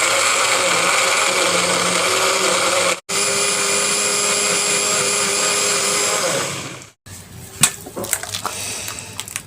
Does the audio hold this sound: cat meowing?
no